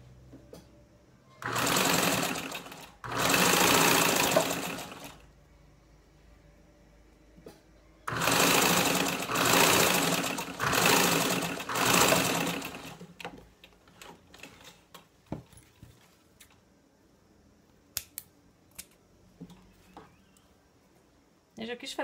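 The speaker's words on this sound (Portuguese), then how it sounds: "Agora passa uma costurinha reta. Passa bem na beiradinha." A sewing machine stitches a straight seam along the edge of a DIY fabric holder in several loud, close bursts of rapid whirring, separated by pauses filled with small handling clicks.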